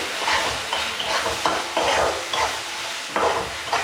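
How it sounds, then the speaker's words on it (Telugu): Yogurt being stirred into fried tomato paste in a pan for paneer biryani, with a moist, rhythmic scraping sizzle in repeated strokes, loud and close, with no talking. "పెరుగు వేసుకొని ఒక 2 టైమ్స్ అట్లా కలిపేసుకోండి"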